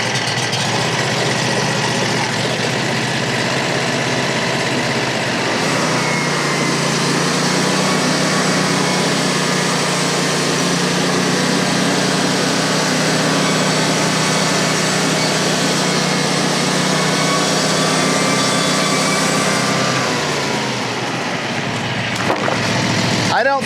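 A sawmill engine started cold with a little choke, running loud and close as a steady idle, with a shift in pitch partway through and a voice speaking over it.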